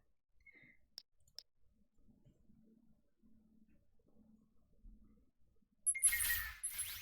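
Short bright UI clicks and chimes from the map screen of the space strategy game Breachway, two sharp ticks early on, then a louder burst of interface sound near the end, alone with no talk.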